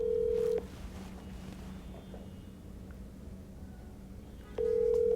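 A phone ringback tone sounds twice, a steady electronic tone at the start and again at the end, with a quiet pause between.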